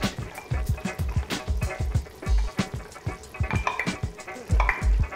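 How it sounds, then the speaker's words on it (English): A spoon stirs thick chicken fesenjan stew in a pot, working in grated beets with a rapid run of soft wet scrapes and knocks, close and steady, with no talking. "So I'm just going to incorporate these beets"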